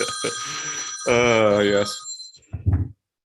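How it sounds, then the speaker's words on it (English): A telephone rings during a community board meeting, its steady electronic tone sounding several times over and between voices, then stopping as someone speaks. "that's my phone, sorry."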